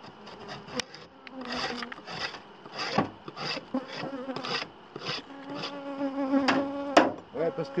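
Honeybees buzz steadily around an open hive during an inspection, a dense close drone of many wings with rising and falling pitch, joined by occasional scraping and knocking of wooden frames.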